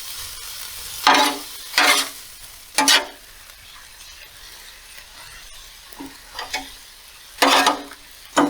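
Egg roll in a bowl with sesame oil is stirred and fried on a Blackstone griddle outdoors, with loud separate bursts of scraping and sizzling between quieter pauses, close up.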